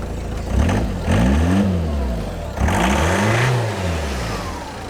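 A car engine cold-started after roughly four months unused revs hard in two loud, close bursts, each climbing and falling in pitch, with a rough idle churning between and after them.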